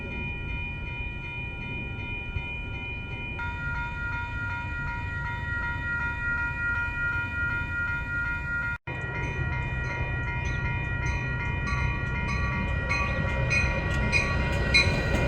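A Metra commuter train pulls into Palatine station with a steady heavy rumble and sustained tonal whine, growing rougher and louder near the end as it arrives, with brief horn-like tones over the constant rail noise.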